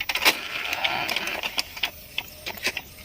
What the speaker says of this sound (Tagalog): Kakainin na ng printer yung papel natin.